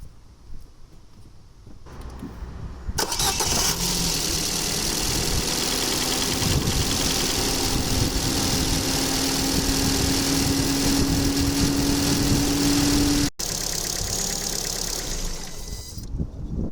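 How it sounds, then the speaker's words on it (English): A Ford Fiesta engine starts and idles just after an oil change, holding a steady, even running drone for over ten seconds before cutting off, close and alone with no talk. "Now we're going to start the engine and let the engine just run for about 30 seconds so the oil can circulate through the engine."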